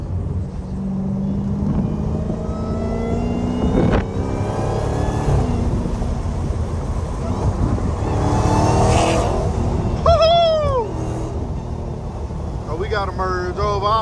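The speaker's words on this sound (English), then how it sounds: "We be making niggas pull over when they hear that supercharger coming." A straight-piped, supercharged Dodge Hellcat roars and revs close up on a freeway morning drive, its engine rumbling steadily with rising surges, and voices come through intermittently over the exhaust.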